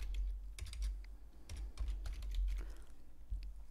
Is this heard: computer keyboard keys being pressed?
yes